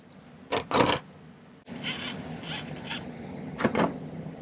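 Wire being cut to length for a handmade pendant, heard as a few close, sharp snipping and scraping bursts with quieter handling rasps between them.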